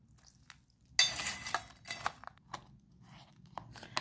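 Christmas cake batter being broken up and stirred by hand in a bowl, with quiet scattered scraping, clinks and squelchy rustles coming in short irregular bursts close to the listener.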